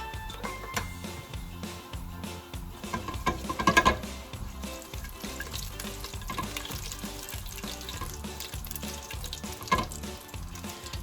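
Cumin and mustard seeds sizzle steadily in hot ghee, a continuous close frying crackle with small pops and occasional stirring clinks, no talking over it.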